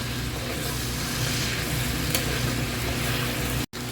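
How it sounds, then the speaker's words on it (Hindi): Steady, dense sizzling of chicken frying in a pan with ginger and garlic, continuous and fairly close, with a brief drop-out near the end. "यहाँ पर देखिए अदरक लहसुन के साथ भी चिकन को हमने अच्छे से भून लिया।"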